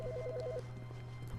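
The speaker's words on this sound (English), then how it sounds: "Ooh, the phone is going off." A faint, brief telephone ring in The Stanley Parable, a warbling electronic trill repeating quickly for half a second over a steady low hum.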